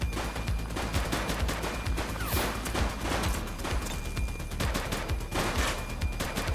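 A dense gunfight breaks out during a police shootout in the game The Precinct, rapid continuous shots and bursts crackling loudly throughout.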